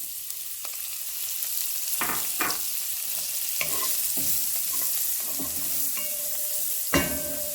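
A shallot drops into a hot pan for an Italian-inspired chicken sausage cassoulet, giving a steady close sizzle broken by a few sharp stirring scrapes, with no voices.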